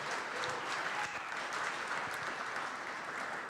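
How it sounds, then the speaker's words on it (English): Applause for the Xavier Hawks boys soccer team at a televised sports show, a steady, even wash of many hands clapping, fairly faint and distant, running the whole time with no talk. "How about a big round of applause to the Xavier boys soccer team?"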